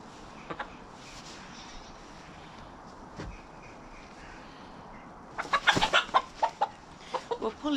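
A hen named Blue, a new chook with a pecked, bloody tail area, clucks amid farmyard fowl; scattered soft clucks early, then a busier burst of sharp, close clucking toward the end.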